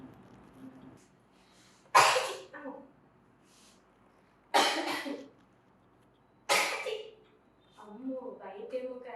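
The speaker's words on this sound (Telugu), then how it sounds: "నాకేమో దగ్గులు తుమ్ములు వస్తున్నాయి" A person coughs and sneezes in short, loud bursts, three sharp explosive fits spaced a couple of seconds apart, with quieter breathy sounds in between, indoors at home.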